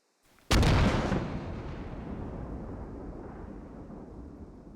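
A mortar round in the video game Squad lands with a single loud, close blast, followed by a long rumbling decay that slowly fades.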